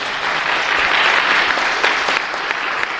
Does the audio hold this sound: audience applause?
yes